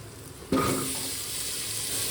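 Chopped papaya, carrot, beans and potato tip into butter with onion in a pan, a sudden loud burst of sizzling that settles into a steady close fry.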